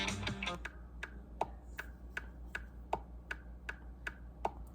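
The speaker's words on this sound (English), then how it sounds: "He's also going to have a click track that I'm making from scratch" Metronome click track made for a recording session: a steady, evenly spaced series of quiet identical ticks, roughly three per second, over a faint background hum.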